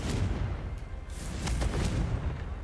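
Confringo blasting spell in Hogwarts Legacy sets off a dense, rumbling explosion with crackling bursts, a sustained loud roar across the whole stretch with a few sharper blasts near the end.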